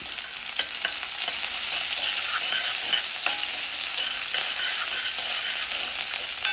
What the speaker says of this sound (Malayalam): നല്ലോണം ഇളക്കി കൊടുക്കാം.